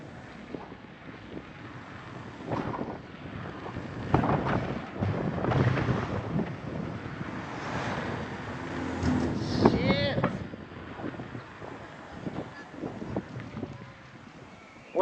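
Wind rushes steadily past while riding a Lazyrolling-equipped 1Rad Nik+ e-bike on a chilly 21°C day, a broad buffeting roar with gusty swells, a thin whistle partway through, and faint voices beneath it.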